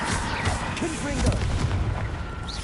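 A Confringo blasting curse in Hogwarts Legacy goes off as a series of sharp, gunfire-like blasts and booms over steady game noise, and a voice speaks during it.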